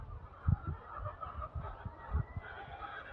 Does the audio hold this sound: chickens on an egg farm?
yes